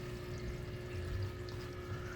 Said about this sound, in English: Well, maybe besides the pipe here, you can hear water running down it